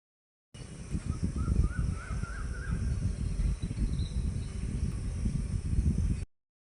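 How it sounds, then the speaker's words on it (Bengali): Crows caw outside a balcony on a breezy day, a few calls rising over steady wind rumble that runs through the whole stretch, fairly faint and distant. "আর পাখির ডাক শুনবেন, দাঁড়ান।"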